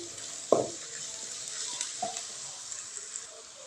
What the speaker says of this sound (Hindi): यहाँ हमारा अदरक और लहसुन भुन चुका है, वो भी ब्राउन हो चुका है